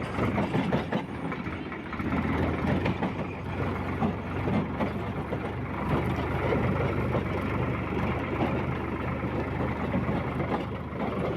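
A farm tractor that has been working a rotavator runs steadily nearby, a continuous low diesel engine drone at an even level throughout with no talk.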